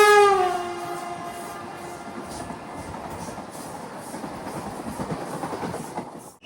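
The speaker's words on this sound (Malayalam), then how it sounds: "കോയമ്പത്തൂർ വന്ദേ ഭാരത് വരികയാണ്." The Coimbatore Vande Bharat express passes near Jolarpettai station, opening with a loud, tonal horn blast that fades into a sustained rushing roar and rhythmic clatter of wheels, with no voices.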